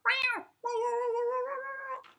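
A cat lets out two drawn-out meows with a short gap between them, loud and close, the second longer and wavering like a caterwaul.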